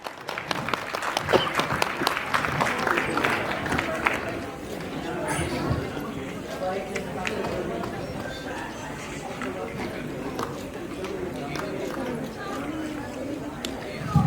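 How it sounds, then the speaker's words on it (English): Sustained applause from a crowd at a charity event, dense clapping for several seconds that gradually thins, with people talking underneath. "Can we have a round of applause?"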